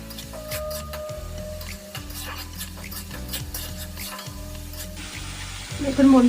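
Spice paste with dry chilli powder, salt and a little water frying in a pan, sizzling steadily while a utensil stirs and scrapes in a repeating rhythm, with a louder burst of sizzle near the end.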